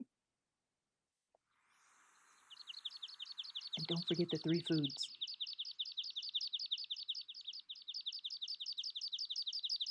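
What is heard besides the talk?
recorded bird call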